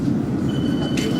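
A London Underground District Line train running between Cannon Street and Mansion House toward Ealing Broadway, with a steady, close low rumble and a brief hiss of higher noise near the end.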